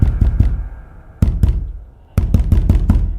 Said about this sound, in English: someone started banging on the front door